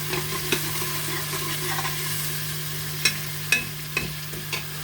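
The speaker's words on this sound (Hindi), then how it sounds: "थोड़ा सा इसको 1 मिनट के लिए थोड़ा फ्राई करती हूँ।" Turnip and spinach fry in a pan, a faint steady sizzle with a low constant hum beneath and a few sharp clicks of stirring, no talking.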